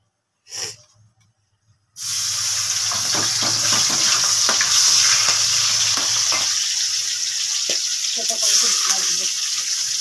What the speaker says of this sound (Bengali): চলো ভেজে নিচ্ছি চিংড়ি মাছগুলো